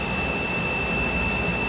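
A machine runs inside a styrofoam factory in Vancouver, Canada, cooking the materials, giving a loud, steady roar with a constant high whine and no pauses.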